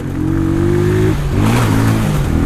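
A small CG motorcycle engine revving close up in traffic, a loud steady drone whose pitch rises and then drops and climbs again as the throttle changes.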